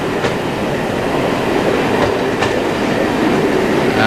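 Electric British Rail train passing through Waterloo station, a steady loud rumble with rhythmic wheel clicks over rail joints, close and continuous with no voices.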